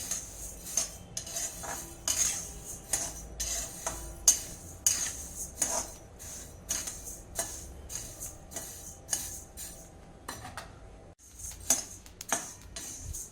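Coriander seeds dry-roasting over low heat in a pan, stirred with a metal spoon that clinks and scrapes in quick, irregular strokes, close and fairly soft, with no voice.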